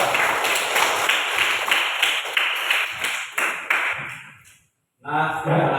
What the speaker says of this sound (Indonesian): Tepuk tangan untuk Laura